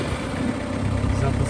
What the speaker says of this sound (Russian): Двигатель работает ровненько, без посторонних шумов.